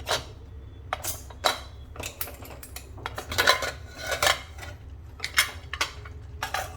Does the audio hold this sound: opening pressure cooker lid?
yes